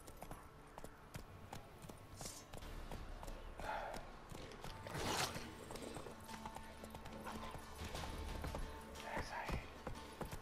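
Roach the horse's hooves clop along in The Witcher 3, a steady rhythmic patter of hoofbeats mixed with other game sounds and a few brief louder bursts.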